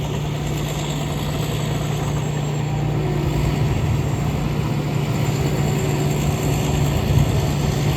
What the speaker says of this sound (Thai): อันนี้ก็เร่งเครื่องประมาณสัก พันสองได้มั้งเนี่ย